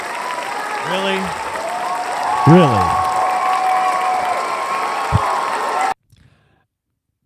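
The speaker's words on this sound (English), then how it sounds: "I fucking announce it's coffee break time, and you cheer finally" A studio audience breaks into sustained applause and cheering at the announcement of a coffee break, a broad steady wash of clapping under a brief spoken word and a voice or two, cutting off abruptly.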